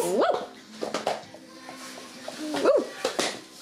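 Young puppy from a litter giving a few sharp, high yips and short barks, close by and separated by brief pauses, with some soft whimpering between.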